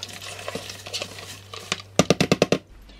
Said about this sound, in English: you're gonna put your cabbage in the juices.